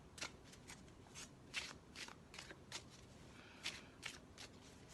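A deck of tarot cards is shuffled by hand in a quiet room, making soft, repeated papery riffles and slides at an uneven rhythm, close and fairly faint.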